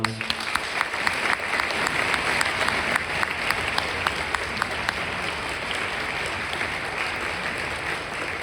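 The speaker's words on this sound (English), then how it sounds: "if we could give them a round of applause." Audience applause at a school spring concert, sustained even clapping from a large crowd for the full stretch, with no talk over it.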